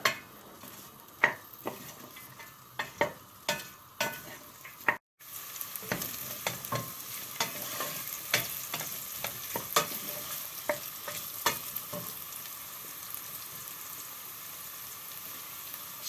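Diced carrots sizzle in a pot while a utensil scrapes and knocks against the sides, with irregular stirring clatter throughout.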